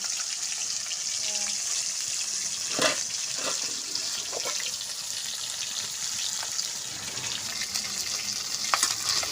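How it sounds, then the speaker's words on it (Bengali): Steady sizzling of fish frying in oil, with a few sharp clinks and scrapes of a utensil turning it; no talking. "মাছটা একটু ভাজা হয়ে গেছে, উল্টিয়ে দিলাম মাছটাকে। এভাবে ভেজে নেব সব মাছগুলোকে।"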